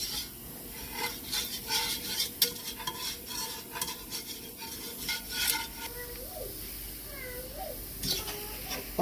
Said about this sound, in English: As you can see, I got my roux going.